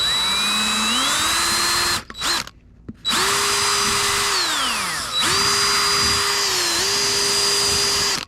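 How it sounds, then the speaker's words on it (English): A power drill whines at high speed boring small holes in the bottom of a gourd, its pitch rising and settling through several bursts with short pauses between. "Let's go ahead and drill about 4 little holes in the bottom of this."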